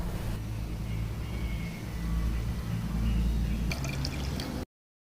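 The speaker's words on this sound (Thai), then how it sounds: "หลังจากที่เราต้มมะขามจนเดือดแล้วนะคะ" Tamarind boiling in water in a pot, a steady bubbling simmer with soft drips and gurgles close by, then cutting off abruptly, no voices.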